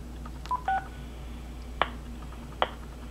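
Telephone keypad DTMF tones during an automated robocall poll: two short tone beeps early, followed by two sharp clicks, faint and isolated over a low hum.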